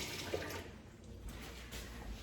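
Running water from a tap rinsing out small peppers, a steady close splashing hiss with slight surges as the stream hits the peppers, without any voices.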